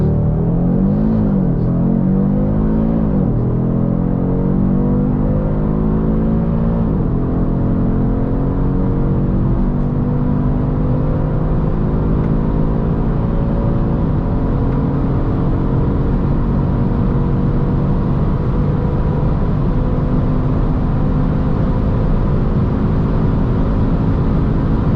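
A 2023 Audi RS 3 accelerates hard, heard from inside the car. The engine and road rumble stay loud and continuous while the pitch climbs through several gear sweeps. No voices are heard.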